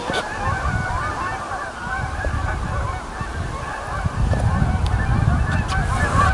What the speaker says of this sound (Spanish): Los famosos Canada Goose, los gansos canadienses.